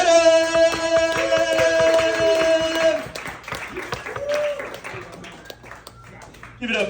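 Audience applause and clapping for a comedian break out at a brewery comedy show. A dense burst of claps is followed by a thinning patter of scattered hands as a voice talks over it.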